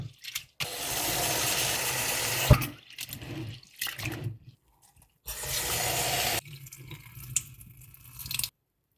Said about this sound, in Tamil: இப்போ 2வது தண்ணியில் கழுவுறேன். நல்லா அப்படி அலசி கழுவணும்.